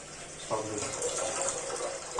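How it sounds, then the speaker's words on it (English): Water poured into a heated bowl for Hyderabad dum biryani, a steady broadband splashing and filling that starts sharply about halfway through and carries on evenly to the end, close and moderately loud. "after some heating of this bowl, we have to pour some water"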